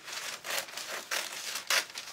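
Decoupage paper being cut away during a shabby chic washboard makeover makes close, crinkly rustling with a few louder crackling bursts, and no one speaks.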